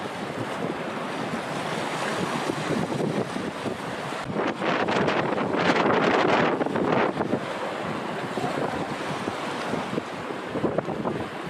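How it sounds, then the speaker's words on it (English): Strong winter wind buffeting at a bridge in Norway, a loud roaring rush that swells into heavier gusts midway, with wind noise hitting the microphone and no talking. "Hope the wind's not gonna blow us over."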